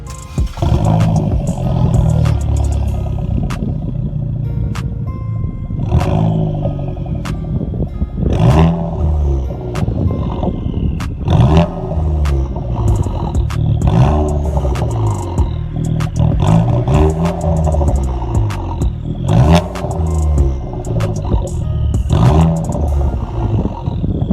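A Vauxhall VXR with a loud modified exhaust and the silencer deleted: a deep, roaring engine note rising and falling through repeated revs, close and very loud throughout, with crackles between pulls.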